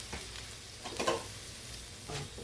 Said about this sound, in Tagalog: Lalagay na natin guys yung ating sabaw ng nyog.